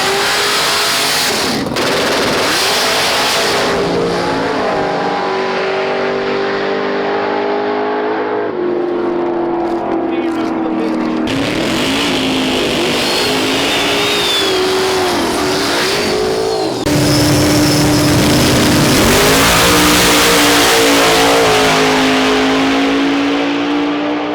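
Drag race cars, including an IROC-Z and a Buick Grand National in Ultra Street class, launch down the strip, loud roaring engines revving through gear changes with rising and falling pitch, crackling exhaust bursts, sustained and close.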